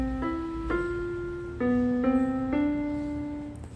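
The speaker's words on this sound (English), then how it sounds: "This is piano." A Yamaha PSS-E30 digital keyboard on its piano voice plays five separate notes in a slow, uneven melody, each struck clearly and left to ring until the next. The notes are close and moderately loud, with no voices over them.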